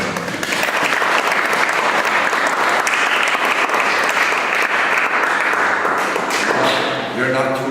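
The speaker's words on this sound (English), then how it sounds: "You're not too exhausted to clap anyway." An audience breaks into sustained applause after a talk, a full, dense clapping that holds steady and thins out near the end, with a few scattered taps and voices.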